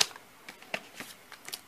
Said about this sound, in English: basically I'll take several of these cards and lay them out for her